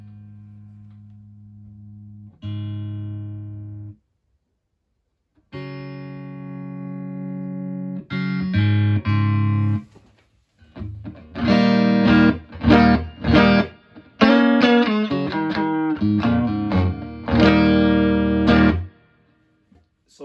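Clean electric guitar through an amp's clean channel with reverb, controls set at 12 o'clock: sustained chords ringing out with short pauses between them, then quicker picked notes and chords, loud and close.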